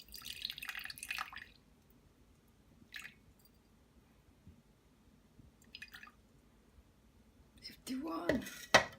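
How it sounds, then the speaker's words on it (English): Water poured into a container on a kitchen scale while starting a sourdough starter, short splashing and trickling bursts separated by quiet pauses, ending in a louder pour with clinks of the container, close and fairly soft. "Then we're gonna put 50 grams of water."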